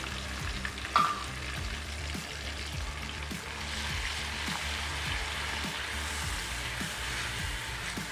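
Onion paste frying in a pan, a steady close sizzle with repeated soft scraping stirs at a regular rhythm throughout, no voices.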